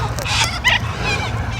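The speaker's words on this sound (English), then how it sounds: "Oh, the little corellas are here." Little corellas calling outdoors, several harsh screeching cries rising over a steady low background rumble, with one louder squawk near the middle.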